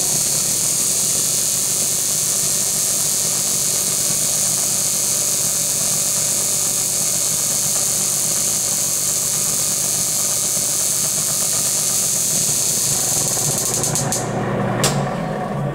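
An engine runs steadily at speed during an inductive ignition distributor polarity test with the CDI signal flipped, a loud continuous drone and whine that holds unchanged before cutting off near the end.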